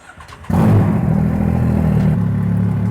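A Can-Am off-road vehicle engine fires up abruptly and then settles into a loud, steady, close idle with a deep rumbling, slightly clattery tone that holds throughout.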